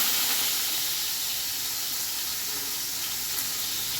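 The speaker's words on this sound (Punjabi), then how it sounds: "ਚ ਪਿਆਜ਼ ਪਾ ਕੇ ਭੁੰਨਾਂਗੇ" Onions frying for saag in a home kitchen give off a steady, loud broadband sizzle and hiss that holds evenly for the full stretch with no talking.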